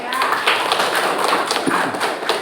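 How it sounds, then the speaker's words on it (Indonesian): Audience applause after a classroom group presentation, a short burst of loud scattered clapping from a nearby crowd, steady and dense throughout. "Kasih aplaus juga ya"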